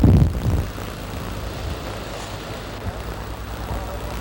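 A helicopter lifting off on a windy mountainside during a statue airlift, a steady engine and rotor drone, loudest at the start and then settling into a continuous rumble with wind noise.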